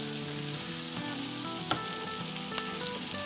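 Boiled potatoes being stirred with turmeric in a hot pan make a steady close sizzle with a few soft scrapes and knocks, and nobody speaks.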